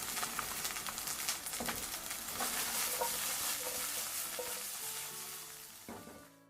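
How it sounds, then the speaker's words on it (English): Beef browning in a hot pan over raised heat, a steady loud sizzle and frying crackle with occasional stirring scrapes throughout, no talking. "To brown this appropriately, I'm going to turn the heat up just a little bit."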